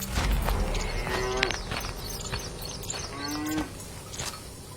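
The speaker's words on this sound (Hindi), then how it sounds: "गाय जोर जोर से आवाज कर रही होती है।" A cow in a cartoon lets out two loud, drawn-out moos a couple of seconds apart, over a busy background.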